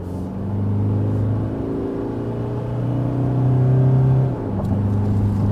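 A 2021 Toyota Hilux Invincible with a 2.8-litre diesel in two-wheel drive accelerating from 60 to 100 km/h, a steady droning engine rumble that rises in pitch through the gears, heard from inside the cab.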